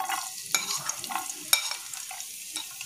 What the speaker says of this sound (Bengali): এটা আগে প্রথমে একটু ভেজে নেবো, আদাটা আর রসুনটা